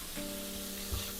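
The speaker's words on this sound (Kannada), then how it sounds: "ಈಗ ಟೊಮೆಟೊ ಹಾಕ್ತಾಯಿದ್ದೀನಿ ನಾನು" Tomatoes fry in a hot pan for uggani bajji. A close, soft, steady sizzle hisses throughout, with a faint low thump near the end.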